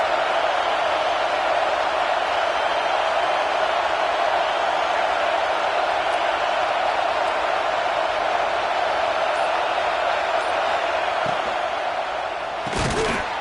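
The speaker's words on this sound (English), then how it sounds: "this crowd is getting behind this defense" A large college football stadium crowd roars steadily through a big third down in the red zone, a dense sustained wall of cheering from far and wide, with a brief thud near the end.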